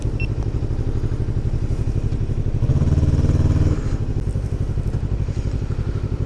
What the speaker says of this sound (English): Is that BMW prick revving at the cyclist?